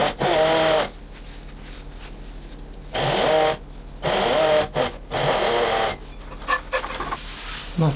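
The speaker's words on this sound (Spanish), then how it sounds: "Estamos pasándole la costura a la pechera por todo el borde, doblando el centímetro hacia adentro." A sewing machine stitches around the edge of a shirt front in several bursts of rapid whirring, each lasting about a second, separated by short pauses.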